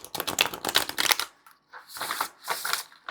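A flexible tarot deck with black core card stock being shuffled, with several quick, close papery riffling bursts separated by brief pauses.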